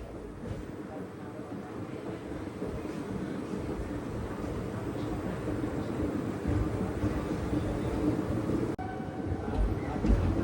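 The Kakatiya Express pulls out of platform 3 at Warangal railway station with a steady rumble and rattle of carriages that builds slightly as it gains speed. There is no talk over the train noise.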